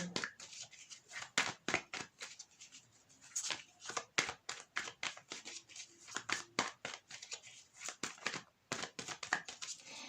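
Soft, rapid rustling and slapping of tarot cards being shuffled in quick bursts, close and quiet, with brief pauses between rounds.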